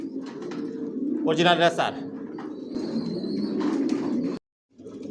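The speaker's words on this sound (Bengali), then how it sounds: "ভিউয়ার্স দেখতে পাচ্ছেন এখানে সব অ্যাডাল কবুতর" Adult racing pigeons of the Johnson line, leg-tagged and vaccinated, coo in a loft under a man's speech, with a louder burst of calls in the middle and a short drop to silence near the end.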